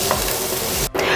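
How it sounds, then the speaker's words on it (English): Onions and garlic sauté in a pan with a steady close sizzle and a brief stirring scrape near the end. "we're gonna saute these off until they're nice and soft and slightly browned"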